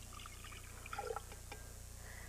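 Orange juice pours briefly into a blender, a faint, short liquid splash and trickle over a low background hum.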